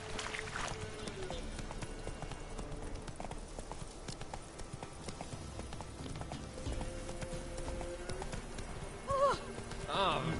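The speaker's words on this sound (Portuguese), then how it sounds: "o cavalo tá indo por onde ele quer" Horse hooves clip-clop at a running pace in The Witcher 3, a steady galloping rhythm throughout with a brief whinny near the end, while someone talks over the game sound.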